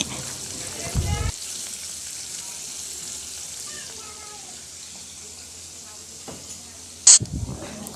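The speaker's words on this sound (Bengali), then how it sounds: "তো মাছগুলো লাল লাল করে ভেজে নিচ্ছি" Hilsa fish head and tail pieces fry in hot oil with a soft, steady sizzle and hiss, broken by a few louder clatters of utensils and a sharp knock near the end.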